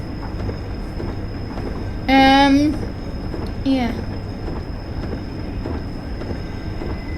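A train rolls along the Isle of Wight line in a train simulator game, with steady wheel-on-rail rumble and two loud squealing bursts, and someone speaks briefly over it.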